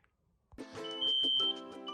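A shrill, continuous electronic smoke alarm tone sounds after a brief pause, steady and piercing with a harsh buzzy edge.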